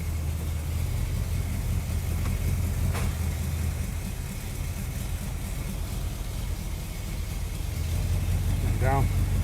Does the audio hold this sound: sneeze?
no